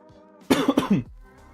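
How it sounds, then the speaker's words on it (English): A burst of several quick, harsh coughs in a row, close and loud, then quiet. "Sorry for coughing."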